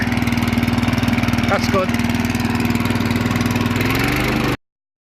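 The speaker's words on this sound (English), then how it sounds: "I started the mower up and it worked great." A restored lawn mower engine runs at a steady, close idle with an even chugging pulse that continues until it cuts off abruptly near the end, and someone speaks briefly over it.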